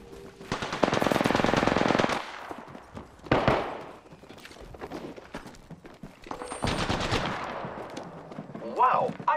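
Rapid automatic gunfire from the Apex Legends battle royale video game comes in several loud bursts separated by short gaps, with single sharp shots and faint game effects between them.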